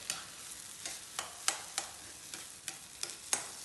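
Potato tikki mixture with onion, green chilli and ginger stirred in a pan over a low flame, soft scraping strokes repeating about every third of a second, close and quiet with a faint sizzle underneath.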